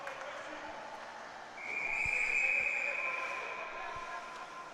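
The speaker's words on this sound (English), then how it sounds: "Glove save, Romanelli takes the whistle" A referee's whistle blows once in a steady, moderately loud tone over faint arena murmur at a college ice hockey game, with a few dull thumps nearby.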